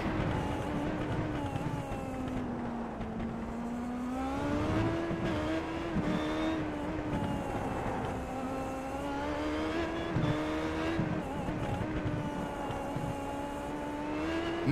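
Onboard view of an IndyCar racing a lap of the Belle Isle street circuit, the engine whining loudly and continuously, rising and falling through repeated upshifts and downshifts as the car brakes and accelerates through corners.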